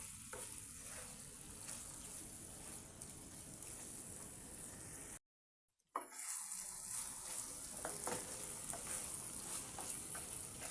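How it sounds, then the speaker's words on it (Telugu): Prawns cook in a masala curry, giving a soft continuous sizzle and bubbling with occasional stirring scrapes, quiet and close, broken by a brief silent gap midway. "ఇంకా ఈ మసాలాలో ఈ రొయ్యలు అనేటివి ఒక ఐదారు నిమిషాలు బాగా ఉడకనివ్వండి"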